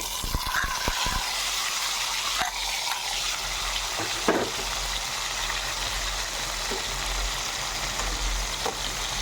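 Moringa drumstick pieces sizzle in hot tempering oil, a steady close frying hiss with occasional stirring clatters and scrapes of a spoon in the pan.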